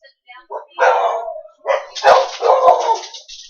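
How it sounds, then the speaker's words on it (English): Several dogs bark and yip in a home, a few sharp, close barks and whimpers in a short burst with some rising cries, likely mixed with a voice. "Got my crazy dogs."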